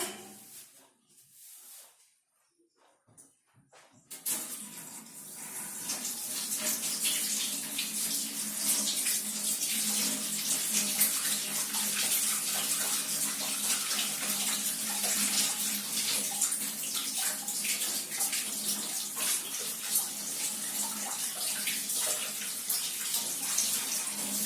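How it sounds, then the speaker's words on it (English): Tap water runs to rinse dishes being loaded into a Hotpoint dishwasher, starting after a few seconds of quiet handling and then pouring in a steady, loud, continuous splash. "But now we need to rinse it"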